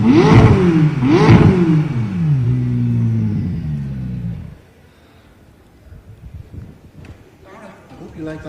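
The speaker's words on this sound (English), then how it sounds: "Now I'm going to start up the car now, Daire" A McLaren sports car engine fires up and revs in two sharp rising bursts, then settles into a steady loud idle before cutting off to quieter background noise.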